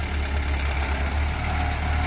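A Kubota L4508DT tractor's diesel engine runs steadily at idle close by, with a constant low throbbing knock and no talking.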